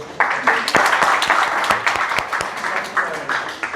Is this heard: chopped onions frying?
no